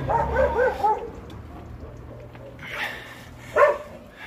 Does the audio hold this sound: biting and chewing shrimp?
no